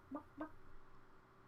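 A chicken gives two quick, faint clucks close together, then quiet.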